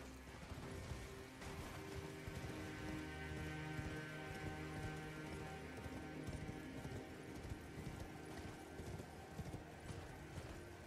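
Steady, rhythmic clip-clop of a horse's hooves in the video game Elden Ring, continuous and close over a droning music-and-ambience bed, with no talk.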